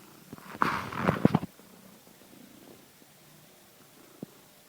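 A loving female cat purrs close by in a short soft burst, then goes quiet, with a faint low rustle and a single small tap near the end.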